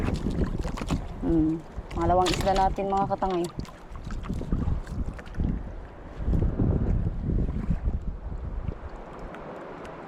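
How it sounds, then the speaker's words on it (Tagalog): Sea waves wash around a small fishing boat out on open water, a steady, windy rush with gusts of mic wind, while someone speaks loudly over it. "Yan yung alon."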